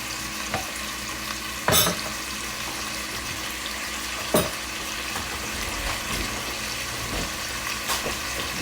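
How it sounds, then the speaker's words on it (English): Oxtail pieces fry in a pot with a steady, close hiss of sizzling, broken by a few sharp clatters from stirring or shifting the meat. "add them into your pot like this and fry them down"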